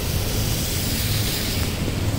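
Floodwater rushing over a paved road in Kathmandu after heavy overnight rain: a dense, continuous roar of churning water with wind buffeting the microphone, steady and loud throughout, with no voices.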